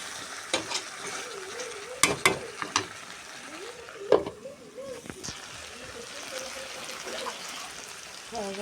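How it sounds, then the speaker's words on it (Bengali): Fried hilsa fish goes into a pan and is stirred. A soft sizzle runs underneath, broken by several sharp scraping and clattering hits, while someone talks over it. "ভাজিয়ে এই মাছটা এখন দিয়ে দিব"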